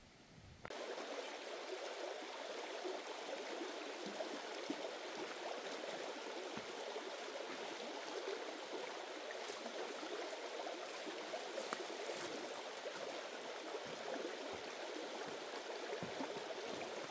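River stream flowing with a steady, broad rush of water and gurgling, constant and fairly loud from start to finish, no voices.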